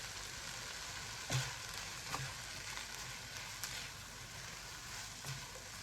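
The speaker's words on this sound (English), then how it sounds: "Fried rice is all about stirring, it's just like any stir fry dish." Prawn fried rice with chili sizzles and crackles steadily in a hot pan while being stir-fried, with a few louder scrapes and tosses of the spatula and no talking.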